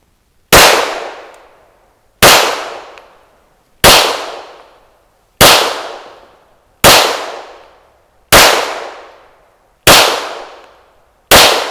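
Eight sharp, loud pistol shots from a Smith & Wesson M&P 9 Pro Series at a shooting range, evenly spaced about a second and a half apart, each with a short ringing decay.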